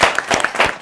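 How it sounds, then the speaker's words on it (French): An audience gives a quick burst of applause, several claps close together in a brief uneven patter, fairly loud and with no voices over it. "applaudissez pour eux"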